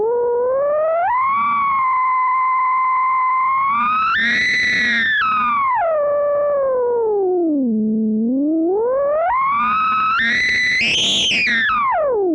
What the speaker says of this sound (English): Boy, that's a pretty bad sine wave.